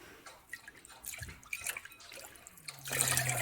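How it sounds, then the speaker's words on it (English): Water runs and drips in a sink as dyed yarn is rinsed, a steady splashing trickle with scattered drops, fairly close and moderately quiet, with a faucet hiss rising near the end. "we're going to be rinsing this to check for any bleeding"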